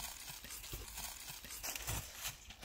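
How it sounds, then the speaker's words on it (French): Horse hooves clip-clop faintly in the distance, scattered soft thuds under a steady outdoor background with no talking. "Il y a un cheval au fond."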